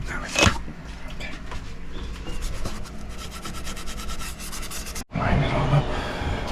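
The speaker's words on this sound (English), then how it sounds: "I'm just going to go ahead and clean around where some rust is collected on the tubes" Steady close scrubbing and rubbing on the rusty tubes of a Spectra 150C watermaker aboard a sailboat, a continuous rasping friction with a sharp knock near the start and a brief break before the rubbing resumes.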